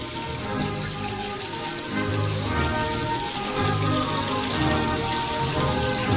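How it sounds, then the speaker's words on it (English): A bathroom water tap runs steadily for hand washing in a Plotagon animation, a continuous loud splashing hiss with no pauses. "Time to wash my hands."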